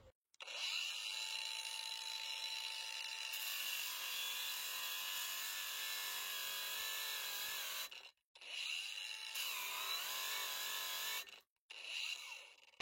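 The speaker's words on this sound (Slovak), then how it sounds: "Už na prvej rýchlosti má flexa celkom dobrú silu" A Parkside Performance 20 V cordless angle grinder, model PWSAP 20 Li D4, runs at its lowest speed setting with a steady high whine cutting into a workpiece, broken by two short pauses before it restarts.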